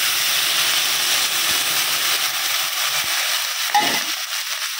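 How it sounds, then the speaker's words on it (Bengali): Water goes into a hot frying pan after eggplant has been fried, giving a steady loud hiss and sizzle, with a short burst of bubbling near the end. "এবার এর মধ্যে জল দিয়ে দিচ্ছি।"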